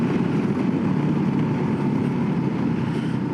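A Voge 300 Rally off-road style motorcycle cruising on country roads, its engine giving a steady, continuous raspy drone mixed with wind rush, no speech.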